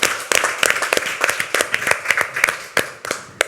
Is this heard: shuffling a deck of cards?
no